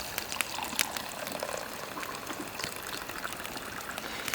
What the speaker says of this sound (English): We poured them at the same time.